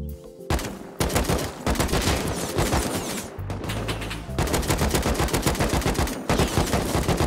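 Rapid automatic gunfire in an online shooter video game, loud and continuous, with dense overlapping bursts and only brief breaks across the whole stretch.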